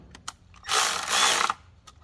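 Ratchet clicks rapidly for about a second while tightening bolts on the oil filter housing of a 2014 Jeep Grand Cherokee 3.6L V6, preceded by a few faint ticks, close and fairly loud with no talking.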